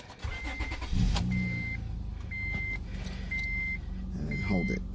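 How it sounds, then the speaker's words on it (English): A car engine cranks and catches, then settles into a steady idle held close by, while repeated electronic beeps from a battery and voltage tester sound over it and a person talks. "I'm gonna start the car"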